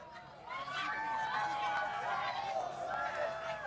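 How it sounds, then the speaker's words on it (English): A large crowd gathered outdoors for the 2024 total solar eclipse swells in a sustained roar of cheering and shouting voices as totality arrives, steady and moderately loud with overlapping exclamations throughout. "The swell of the crowd"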